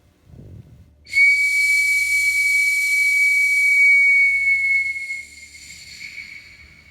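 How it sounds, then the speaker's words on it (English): At a graduation ceremony, an eagle whistle sounds one long, piercing, steady high note that holds for about four seconds and then fades into quiet room tone. "I sound the eagle whistle"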